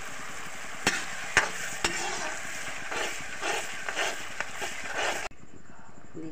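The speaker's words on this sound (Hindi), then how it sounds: "हमें पानी डाली है, अब थोड़ा वो उबल रहा है, मतलब पक रहा है।" Water bubbles and sizzles steadily in a cooking pan, with occasional sharp clinks of a utensil, before the sound cuts off abruptly.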